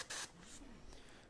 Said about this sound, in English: With no needle in my airbrush, I'll just do a spray through